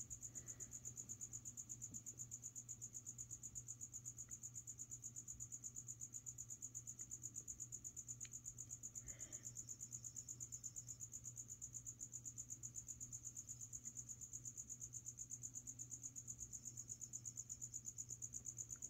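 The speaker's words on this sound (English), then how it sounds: "Crickets really are dumb insects." Crickets kept as feeder insects for flying geckos chirp steadily in rapid, even pulses, a continuous faint trilling with no voices.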